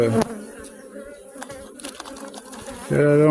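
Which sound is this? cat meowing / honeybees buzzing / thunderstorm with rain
honeybees buzzing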